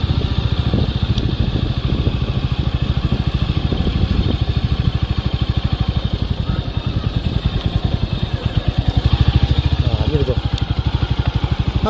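A motorcycle engine runs steadily with a rapid, even putter and some clatter, close and loud throughout, likely heard while riding.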